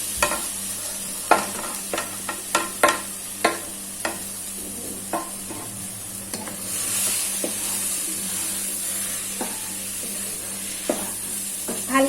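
Eggs sizzle and fry in a pan while being stirred for egg keema, a steady hiss of frying under a series of sharp scraping and tapping stirs that thin out toward the end.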